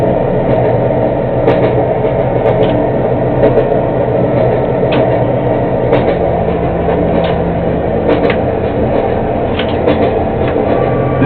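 A Norfolk Southern freight train runs in a train simulator game, a steady loud rumbling drone of engine and traction motors with faint periodic clicks of wheels over rail joints.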